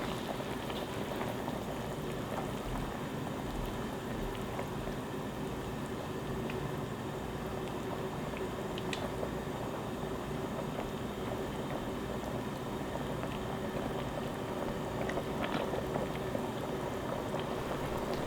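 Aged chonggak kimchi with radish boiling in a pan, a steady, continuous bubbling and sizzling hiss that runs unbroken throughout at close range, with no voices over it.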